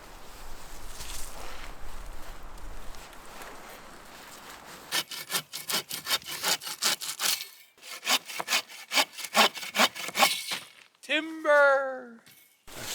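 Lumber for a winter camp shelter is hand-sawed in a snowy outdoor setting, a quick run of rhythmic rasping strokes starting midway after quiet shuffling, with a brief voice near the end.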